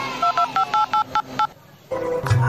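A quick run of seven touch-tone phone dialing beeps, evenly paced, then a brief pause before a low hum and another tone come in, ahead of a busy-line message.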